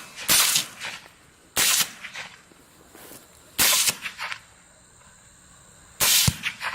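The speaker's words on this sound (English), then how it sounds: "Shoot him. Shoot him." Gunshots during a hunt: four sharp, loud cracks spaced roughly two seconds apart, each trailing a brief echo, with quiet outdoor background between them and no talk.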